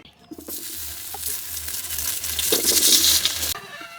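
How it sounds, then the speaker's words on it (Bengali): Potatoes frying in hot oil, the same oil just used for eggplant, a steady loud sizzle and crackle that swells toward the end and then drops off sharply, with a low hum underneath and no talking. "এই তেলে আলুগুলোকেও ভেজে নেব"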